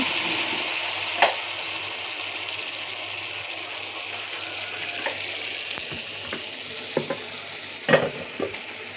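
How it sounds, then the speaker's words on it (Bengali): Fish curry masala sizzles in a pan on a gas stove as it is stirred, a steady frying hiss broken by occasional sharp clacks and scrapes of the spoon. "এখন মশলা ভালো করে কষিয়ে পানি মাছ দিয়ে দেওয়া হলো"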